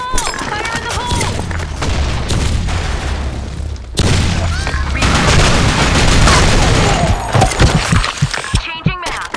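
Explosions and dense gunfire from the online shooter BlackShot, loud and continuous, with booming blasts, rapid weapon fire and shattering debris layered throughout, and game voice callouts mixed in.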